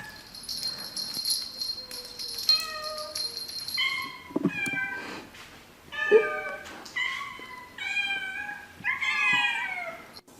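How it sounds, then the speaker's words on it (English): Added sound effects of a cat meowing, a series of distinct drawn-out meows and a few yowling cries with short pauses between them, clear and close with no talking. "So that wasn't actually the cat. I dropped in some sound effects there."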